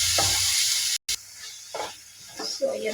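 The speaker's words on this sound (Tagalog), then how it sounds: "So, ilutuin lang natin yung kamatis." Tomatoes sizzle and sputter in a hot pan while being sautéed for squid adobo, with a steady frying hiss and intermittent stirring scrapes nearby, briefly cut by a short gap.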